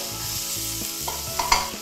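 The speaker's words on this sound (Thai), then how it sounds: "ใส่เนื้อหมูลงไปค่ะ ค่ะยีให้เนื้อหมูแตกตัวนะคะเขาจะได้สุกทั่วกัน" Minced pork and vegetables including carrot sizzle steadily as they stir-fry in a pan. A spatula scrapes and breaks up the meat, with a few sharper clinks near the end.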